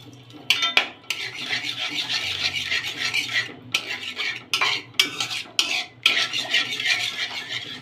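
Milk being stirred into a white sauce in a pan on a gas stove: continuous scraping and swishing of a spoon against the metal pan, with irregular clinks and short pauses, close and fairly loud.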